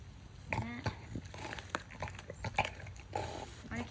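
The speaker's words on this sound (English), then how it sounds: "They know how to chew this." A dog chews on a hard chew treat, giving repeated wet crunching and gnawing sounds up close, irregular and continuous, with a few small snorting grunts mixed in.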